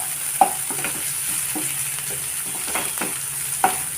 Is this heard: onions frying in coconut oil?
yes